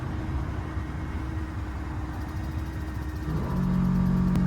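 A 2000 Chevrolet Silverado 2500 with custom air ride suspension raising to ride height: steady low rumble that swells near the end into a louder, sustained hum of the air compressor filling the bags, with no voices.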